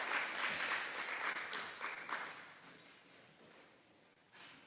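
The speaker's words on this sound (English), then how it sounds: "Nice to give our volunteers a round of applause." An audience gives a round of applause for volunteers at a group discussion workshop, steady clapping that holds evenly and slowly fades, with a brief swell near the end.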